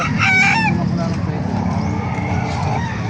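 A rooster crows loudly near the start at a rooster market in Calumpit, its call fading into a steady background rumble of engine noise and faint voices.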